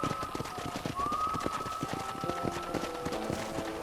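Horse hooves galloping in the Red Dead Redemption video game on Xbox One, a quick steady clip-clop rhythm, close and fairly quiet, with a thin tonal whistle layered over the hoofbeats.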